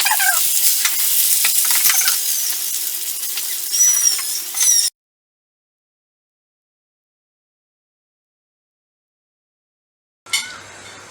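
Chicken and vegetable spaghetti stirred in a hot pan, with a steady sizzle broken by scraping and squeaking utensil strokes for about five seconds, then silence before a brief return of sizzling.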